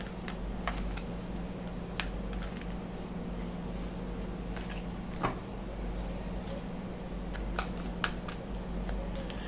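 Angel cards are shuffled for a reading, giving faint soft riffling and scattered small taps against a quiet hum, with no talking.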